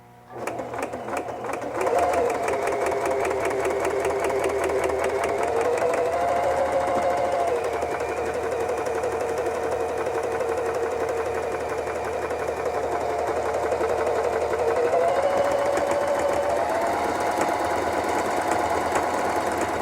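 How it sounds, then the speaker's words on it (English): A Necchi K132A sewing machine runs a steady straight stitch at stitch length 3 for nearly twenty seconds, with an even motor whir and rapid needle clatter up close and no talking. "So I've got the machine set on straight stitch, and we're going to put it on stitch length 3."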